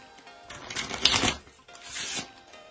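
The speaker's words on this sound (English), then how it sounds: "I've got a deck of cards" Shuffling a deck of playing cards, two quick riffles of rapid fluttering clicks, close and fairly soft, with no talk.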